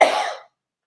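One short, close cough bursts out and fades quickly into silence.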